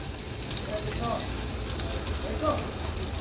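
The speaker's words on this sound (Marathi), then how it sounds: "फोडणीला आता मी हा चेचलेला लसूण घालते। लसूण तेलावर थोडासा परतून घ्यायचा आहे।" Soft, continuous sizzle of crushed garlic sautéing in hot oil, with a couple of faint scrapes in the pan.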